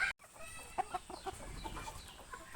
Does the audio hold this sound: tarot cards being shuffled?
no